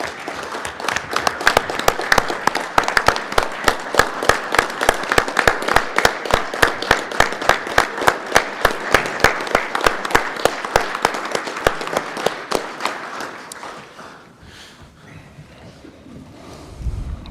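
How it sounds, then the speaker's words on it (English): Loud applause fills a town council meeting room after an awards presentation, sustained dense clapping for about thirteen seconds, then fading away to quiet room noise. "let's just give one more round of applause for our Knights of the Rockingham Arch recipients"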